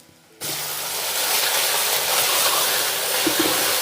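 Kandali (nettle) paste sizzles loudly in hot oil in a traditional pot for Pahadi cooking, a sudden hiss after quiet that swells into a steady frying roar and holds close throughout.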